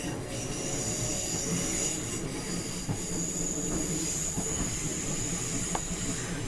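Wheels of a Class 365 Networker electric train run along the track, a continuous rolling roar with hiss and faint squeal, punctuated by occasional clicks over rail joints.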